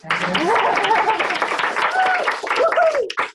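Audience clapping for a speaker being introduced at an event on supporting formerly incarcerated leaders, with a person's voice talking over the applause.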